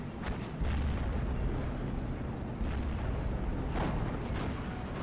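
Steel Division: Normandy 44 tank battle at an airfield, with Tiger E tanks firing on Hellcats: a steady wash of distant cannon fire and explosions, several heavier booms rising out of the continuous rumbling din.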